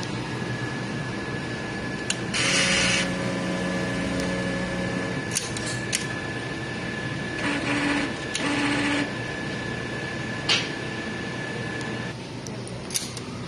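Sublimation printer running a head clean, a steady mechanical whir with intermittent motor bursts, clicks and short whining tones over constant background hum.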